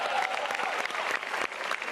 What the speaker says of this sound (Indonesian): Lagi dong tepuk tangannya.